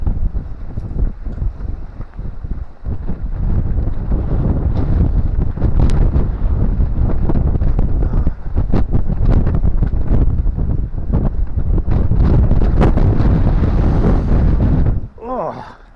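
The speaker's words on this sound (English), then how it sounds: "Come out the wind." Strong wind buffets the microphone outdoors beside a sailing boat, a loud continuous rushing roar with gusty swells that cuts off abruptly near the end, where a voice briefly speaks.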